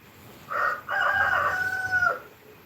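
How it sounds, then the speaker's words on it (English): A rooster crows in one long cock-a-doodle-doo with a brief break after the opening note, fairly close and clear over quiet background, no talking during the call. "That is a rooster."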